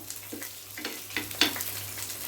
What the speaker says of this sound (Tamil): நம்ம போட்ட பட்டை கிராம்பு ஏலக்காவும் நல்லா வெடித்து வருது